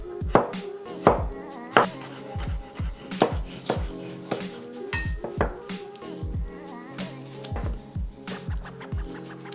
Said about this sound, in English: And time to chop our tomato.